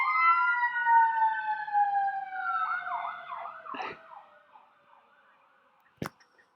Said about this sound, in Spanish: ya, ahora sí es que pasa la ambulancia